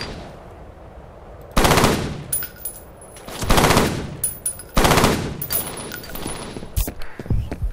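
Loud bursts of rapid gunfire from the video game F.E.A.R. come in three main volleys, with scattered single shots between and quiet gaps.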